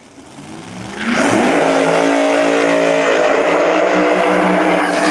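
Ford Mustang drag race cars launch at a street outlaws invitational at Galot Motorsports Park, a loud engine roar rising sharply after a second and then holding at full, sustained volume as the cars accelerate down the strip.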